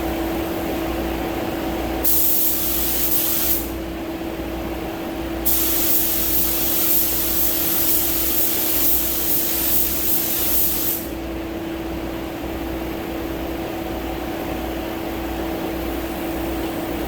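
A spray gun lays paint coats on the fender of a 2016 Honda Odyssey being repaired after front-end damage, with loud bursts of hissing spray that start and stop over a steady background hum.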